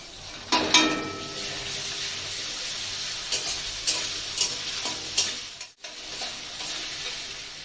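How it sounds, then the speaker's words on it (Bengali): Spice paste of ginger and tomato frying over a low flame for a pointed gourd curry, with a steady close sizzle, a few sharp stirring scrapes and clatters, and a brief drop in sound near the end. "গ্যাসটা লো ফ্লেমে রেখে কিন্তু আমাকে মশলাটা কষাতে হবে, নইলে কিন্তু পুড়ে যাবে।"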